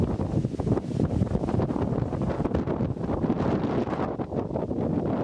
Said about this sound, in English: The wind just out of nowhere just picked up.